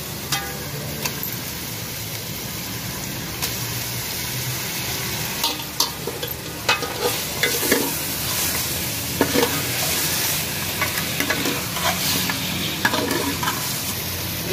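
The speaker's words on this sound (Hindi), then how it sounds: "मैंने चापों को भून लिया अच्छी तरीके से, इसको फ्राई कर लिया" Mutton chops fry in roasted masala for a handi chaap, a steady close sizzle punctuated by repeated scraping stirs and clicks of a spoon against the pot, growing busier toward the end, with no talking.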